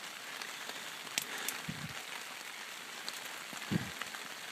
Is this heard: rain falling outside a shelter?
yes